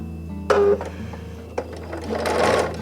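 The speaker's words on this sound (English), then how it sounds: "And then we'll chain stitch these as well." A sewing machine chain stitching quilt pieces runs in short bursts, a quick mechanical whir starting and stopping a few times, close and fairly loud.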